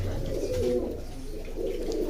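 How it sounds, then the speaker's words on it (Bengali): Pigeons cooing at a pigeon seller's loft in Rajshahi, a low throaty coo rising and falling over steady background noise, fairly close. "ওই দেখেন কঞ্চল কবুতর।"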